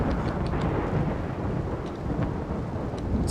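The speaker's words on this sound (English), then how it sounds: "it's a rainy thunderstorm" Rainy thunderstorm in the video game RimWorld, a steady low rumble of thunder under continuous rain with scattered drop taps.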